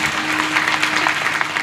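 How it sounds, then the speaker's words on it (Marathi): Audience clapping together during a Navratri kirtan at a math, a dense steady burst of applause from a close crowd that fills the short moment without a break. "प्रत्येकाने आपापल्यासाठी एकदा टाळ्या वाजवा"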